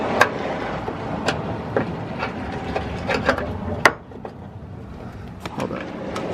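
A wrench works a spinning bolt and nut on the front bumper of an Infiniti G35, giving a run of close, dry ratcheting clicks and mechanical rattles with a few sharper knocks.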